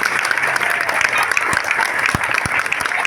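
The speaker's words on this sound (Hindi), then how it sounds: "एक बार जोरदार तालियां हो जाए" Enthusiastic applause from an audience of children and families at a Gaura Purnima devotional gathering, steady dense clapping throughout with a few sharper claps standing out.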